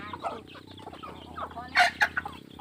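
Close clucking from jungle fowl, a few soft calls followed by two louder, sharper clucks near the end.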